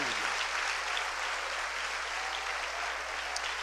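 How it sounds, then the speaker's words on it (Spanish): A church congregation applauds for Christ during a Spanish-language Christian service, a steady, even wash of clapping that carries on without a break from start to finish, fairly soft and distant. "Un aplauso a Cristo"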